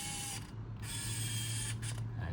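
A Minolta Capios 20 compact film camera's zoom motor whirs steadily for about two seconds, close and fairly quiet, with a brief pause partway through as the lens drives in and out.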